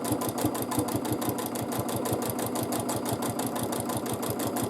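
A sewing machine stitching a swirl in free motion quilting, its needle pounding in a fast, very even rhythm, steady and close throughout.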